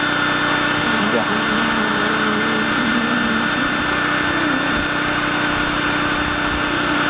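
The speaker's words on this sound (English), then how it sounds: "Now, that chainsaw just chewed through there." A loud, steady engine drone runs throughout as a chainsaw bites through a log, with faint voices beneath the noise.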